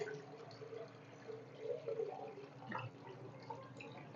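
Water is poured into a large pot holding beef trotters for paya, a soft continuous gurgle and splash of moderate, fairly quiet level with no talking.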